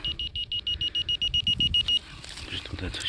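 A metal detector in the field in Pomerania gives a quick series of about a dozen short, evenly spaced beeps, then falls silent while soft scraping and rustling from digging follow nearby.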